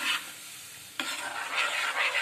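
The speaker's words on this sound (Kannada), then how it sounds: "ಈಗ ಮಿಕ್ಸರ್ ಮಾಡಿ ಇಟ್ಕೊಂಡಿದ್ದ ಮಿಶ್ರಣವನ್ನು ಇದಕ್ಕೆ ಹಾಕಿ ಮತ್ತೊಮ್ಮೆ ಚೆನ್ನಾಗಿ ಕಲಸಬೇಕು" A spoon scrapes and stirs through a wet potato kurma mixture in a pan over a soft sizzle, with a sharp clank near the middle and several swishing strokes following.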